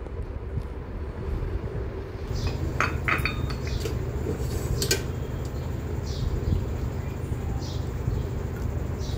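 A clay cooking pot set on a lit gas stove for chicken rassa clinks and scrapes in a few sharp knocks over a constant low roar of the burner flame.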